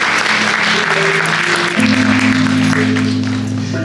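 An audience applauds at a musical theatre performance of The Great Rahwana, a loud, sustained crowd ovation in a hall with music playing underneath.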